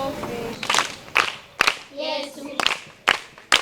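Children in a parish holy childhood group clap their hands in several short bursts of rhythmic claps, close and fairly loud, with brief gaps and a moment of voices between bursts.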